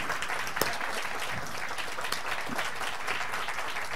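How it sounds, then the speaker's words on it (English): Steady, dense applause from an audience at a panel discussion for minority business owners, continuous clapping at even strength with no voices heard over it. "Give them a round of applause."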